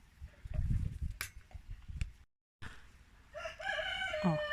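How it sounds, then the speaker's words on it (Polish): A rooster crows nearby, a loud drawn-out call rising at the end, after a stretch of rustling and scuffling noise. "Jak poszłam, to już pieje."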